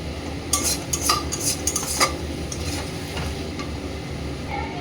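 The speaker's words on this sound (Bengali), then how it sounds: "মশলাটা খুব ভালোভাবে কষিয়ে দিচ্ছি।" Spice masala is stirred and sautéed in a pan with a little oil and salt, a soft, continuous sizzle broken by several sharp metallic spoon scrapes against the pan.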